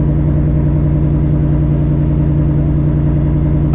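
A straight-piped Ford S650 Mustang GT with a cat delete rumbles loud and close, its exhaust holding a deep, steady throb with little change in pitch.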